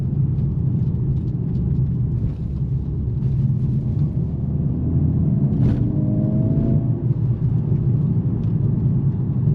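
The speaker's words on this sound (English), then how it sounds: "Now I'll be driving in the Sport Plus mode." A 2025 Mercedes-AMG CLA 45 S Coupe with 416 hp, driven in Sport Plus mode, gives a steady, loud, low rumbling drone from the cabin, with a brief rising engine note partway through.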